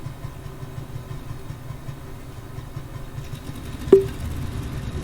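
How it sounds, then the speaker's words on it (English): Front aircraft engine starting in Microsoft Flight Simulator over the Caribbean: a steady low engine drone with a sharp spike of noise near the end as it catches, then a rougher running hum. "So let's get the front engine started."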